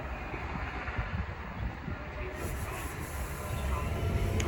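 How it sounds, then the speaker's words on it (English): A Great Western Railway IET train running through Ealing Broadway station on the Great Western Main Line, a steady rumbling rail roar that builds slightly toward the end, with wind noise over the microphone. "there's a Great Western Railway IET"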